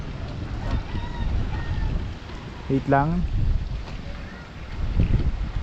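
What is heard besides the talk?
very strong wind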